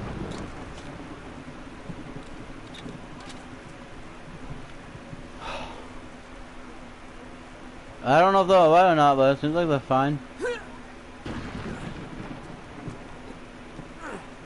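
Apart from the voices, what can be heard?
rain and thunder in the video game Uncharted 2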